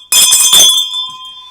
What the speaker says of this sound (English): ring that bell, that notification bell that tells you every time we're on the air